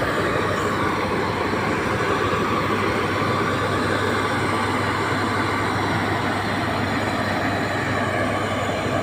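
Steady loud rumble of a broken-down train stalled on a bridge over the Khowai River, with a low constant hum and broadband noise, unchanging throughout, no voices.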